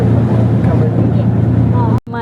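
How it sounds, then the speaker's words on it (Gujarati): A speedboat passes near the Gateway of India in Mumbai, its engine a loud, steady low drone with water rush. Voices chatter over it until a brief cut near the end. "જો સ્પીડ બોટ આવી, સ્પીડ બોટ"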